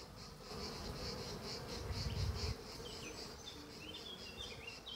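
Dense, steady buzzing of honeybees swarming over a hive frame during an inspection, with some sharper higher whines from individual bees passing close, continuous and fairly loud throughout, with no talk.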